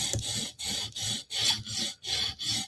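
A Spyderco knife with VG10 steel is drawn across a sharpening stone in six steady, evenly spaced rasping strokes, each a close, bright scrape separated by short pauses.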